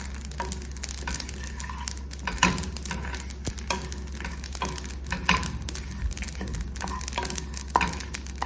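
Paneer masala roasting in a frying pan as it is stirred, with a steady sizzle and frequent scraping and ticking strokes, fairly close and continuous with no talk.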